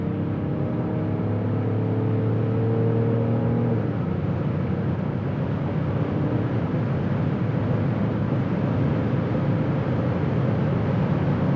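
Deep diesel drone from a BMW X5 M50d SUV accelerating, a steady low engine note rising slightly with heavy road and wind noise, loud and continuous with no talking.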